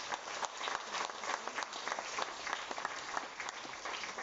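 An audience at a ceremony claps together in a steady, full round of applause, dense and even throughout, with no voices standing out.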